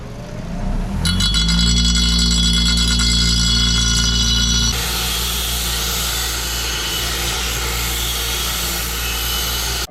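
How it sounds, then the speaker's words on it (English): A Harbor Freight Central Machinery 6-inch bench grinder with light spins up with a steady whine and hum, then keeps running with a rougher grinding texture, loud and close, with no talk. "the vibratory action of the Harbor Freight Central Machinery 6-inch bench grinder with light."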